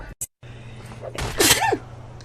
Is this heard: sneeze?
yes